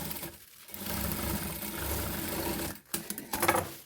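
A sewing machine stitches old cloth being reused, a close, steady rapid mechanical whirring run that pauses briefly near the end and then resumes with a few short bursts.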